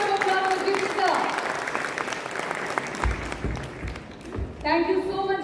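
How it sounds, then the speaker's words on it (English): Applause from an audience at an education symposium greets the moderator, a radio host, with steady clapping across the room, a voice speaking over it at times and talking resuming near the end. "A big round of applause for Jimmy, sir."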